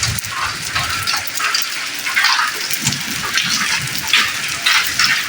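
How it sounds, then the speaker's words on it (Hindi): Heavy rain mixed with hail, more hail than rain, a dense irregular patter of hard hits on surfaces, close and loud throughout. "बारिश कम है और जो ओले वो ज़्यादा गिर रहे हैं"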